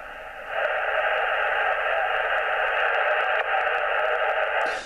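Steady band hiss from a Yaesu FT857D tuned to 40m lower sideband, a loud continuous rushing static that starts abruptly after a brief quiet moment and holds level throughout, with no voices.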